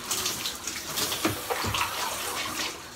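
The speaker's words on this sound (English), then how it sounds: "So we use the bucket to take a shower." Water from a bucket splashes and pours over a bather in a Filipino home bath, a steady wet rush with a few heavier splashes landing close by, no talk.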